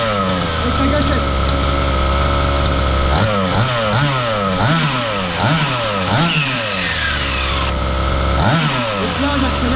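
A 1/5 scale RC buggy's petrol engine idles steadily while warming up, a loud close buzzing drone broken by repeated sharp rising-and-falling blips of throttle through the middle.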